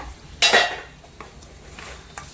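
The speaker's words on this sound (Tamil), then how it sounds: "மிளகு போட்டு மிளகுத்தூள் தூவிட்டு கிளறி விடுங்க" A spoon scrapes and clanks against a pan while pepper chicken fry is stirred, one loud metallic stroke followed by fainter scrapes and taps, close and without talk.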